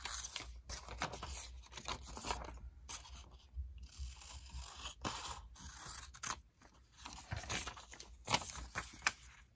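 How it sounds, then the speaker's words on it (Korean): Scissors snip and slice through sheets of colored origami paper while a paper model is folded, giving a run of close, dry cutting and rustling sounds with short pauses between strokes, with no voices. "선을 그렸으면 필요 없는 부분을 가위로 잘라줄게요"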